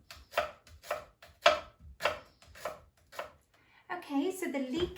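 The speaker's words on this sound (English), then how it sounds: "all I'm going to do is just cut it up into fairly small pieces" A knife chops a washed, trimmed leek into small pieces on a board with about eight steady, crisp thuds, followed by a few quieter scraping and handling noises.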